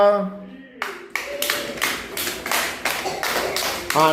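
A small group of schoolchildren claps in a quick, steady burst of about a dozen beats, close and loud, right after a brief spoken voice.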